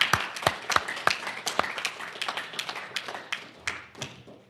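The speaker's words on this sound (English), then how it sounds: "I think we would all like to give a great applause, Marcos, to you also personally" Scattered, uneven applause from a small audience at a finance forum side event, with separate claps standing out rather than building into a dense roar.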